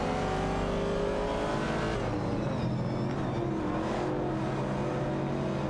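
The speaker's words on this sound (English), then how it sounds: "M4RKSXX in the Dodge Challenger is closely contested by Bluegrass Railfin in the Chevrolet Camaro 70 for the 12th position" Race cars in a racing video game, including a Dodge Challenger and a Chevrolet Camaro battling for position: continuous loud engine drone with overlapping revving tones shifting in pitch as cars accelerate and pass, steady throughout.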